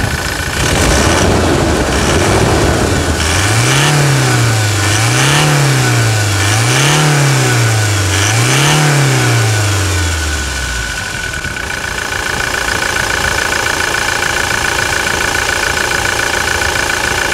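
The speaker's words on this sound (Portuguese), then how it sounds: "Esse som de motor é muito bom, é muito bom." A red Toyota Hilux with 280,000 km idles loudly up close, then revs repeatedly in a rising-and-falling rhythm several times before the engine drops back to a steady idle.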